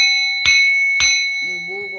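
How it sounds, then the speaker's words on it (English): A small handheld bell rings twice, close and clear, each strike sustaining a bright ringing tone. A voice starts speaking over the fading ring near the end. "So, let's ring this bell."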